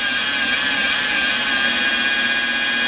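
A power tool spins a wet detailing pad at about 1,500 RPM, a loud, steady high-pitched whine that holds unbroken and close with no talking.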